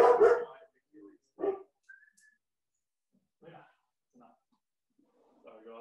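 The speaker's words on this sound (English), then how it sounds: "Luna's barking away here." A guard dog at home barks in a few short, scattered bursts with quiet gaps between them, alongside a man's speech.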